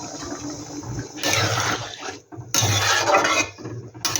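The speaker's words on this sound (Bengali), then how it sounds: "এবার এখানে আমি জল দিয়ে দেবো।" Warm water poured into a pan of soybean curry, two bursts of splashing, gushing liquid with a short pause between, close and fairly loud with faint clinks of cookware.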